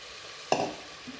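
Moong dal stirred with onion and spices in a pan while cooking pongal, a single scraping stir with a soft sizzle, faint and close, no talk.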